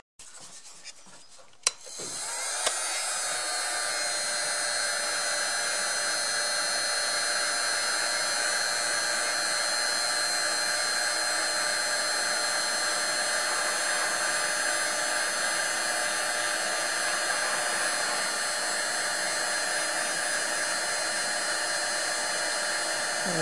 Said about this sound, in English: I'm just running the heat gun on medium here just so things don't happen too fast.